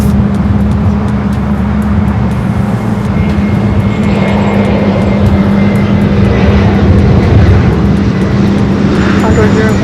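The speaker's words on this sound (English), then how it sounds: "Condor up next for takeoff" A Condor heavy airliner takes off at LAX, its jet engines giving a loud, sustained roar and low rumble that builds slightly, with a steady tonal hum underneath.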